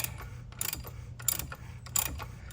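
A ratchet tightens a part during an oil change on a 2017 Chevy Trax 1.4T, giving quiet, close clicking in several short bursts with brief pauses between them.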